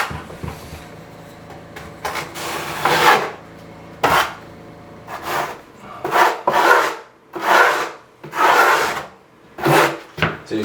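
Schluter Kerdi band fleece is pressed into place on a shower wall with a series of firm, scraping passes, each a rasping swipe a second or so long with brief pauses between, close and without talking.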